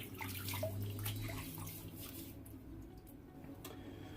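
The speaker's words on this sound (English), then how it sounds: "Throw a little bit of water in the head." Water is splashed and rubbed onto a head before a shave, making faint, soft wet splashes close to the microphone.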